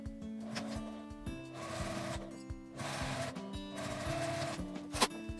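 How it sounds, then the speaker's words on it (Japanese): Sewing machine stitching the bottom seam of a zipper wallet with a 1 cm seam allowance, its close rhythmic needle clatter running in short bursts separated by brief stops. "表同士を合わせて 底を1センチの縫い代で縫います。"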